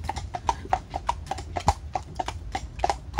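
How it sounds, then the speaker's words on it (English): Horses pulling a prairie wagon clip-clop at a steady walking rhythm, hoofbeats close and distinct, with a brief low voice underneath. "So, Dana, what do you think about the prairie wagon and driving with the horses?"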